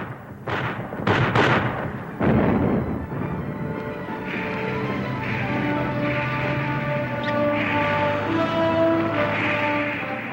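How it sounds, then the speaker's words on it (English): Heavy artillery barrage at the Battle of El Alamein in October 1942, with a few sharp booming blasts early on followed by a sustained, dense rumble of distant gunfire and droning that continues steadily to the end. "launching the heaviest artillery barrage of the war, Montgomery struck at Alamein"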